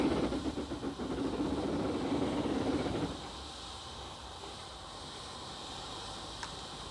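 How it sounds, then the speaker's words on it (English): An old Liberation class steam locomotive of a design once used on the Manchurian Railway gives a loud, rushing steam hiss and rumble for three seconds, then drops to a quieter steady background hiss. "This is called a liberation locomotive, and it's of an old design once used on the Manchurian Railway."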